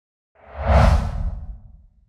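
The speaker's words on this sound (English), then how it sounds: "a short, clean swoosh transition sound for YouTube videos" Short, clean swoosh transition effect, AI-generated, rising and sweeping through in one smooth rush with a deep low body, peaking near the middle and trailing off over about two seconds, heard alone.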